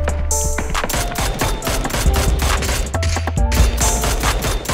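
Distant gunfire from across the way in PUBG, a dense run of overlapping shots and bursts that rattles on steadily for several seconds over a low background, with no talking.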